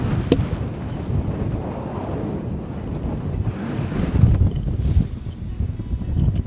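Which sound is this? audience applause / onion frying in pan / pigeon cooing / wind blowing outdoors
wind blowing outdoors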